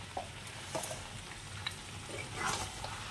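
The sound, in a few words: stirring a sweet dish with sugar and ghee in a pan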